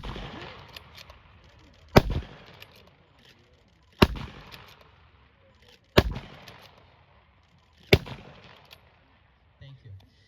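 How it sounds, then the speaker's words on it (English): Bolt-action rifles firing at a World War 1 reenactment: four sharp, loud shots spaced about two seconds apart outdoors, each with a short echoing tail, and faint crowd murmur between them. "Go ahead and fire when ready."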